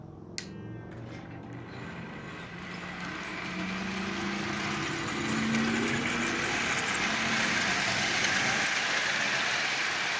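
A Marx toy train fitted with a replacement can motor runs on 12 volts from a portable power supply, giving a steady whirring hum with faint rail clicks that swells slightly louder partway through.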